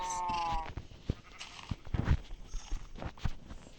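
A sheep in a survival video game bleats once in a brief wavering call at the start, followed by soft scattered thuds and footstep-like taps.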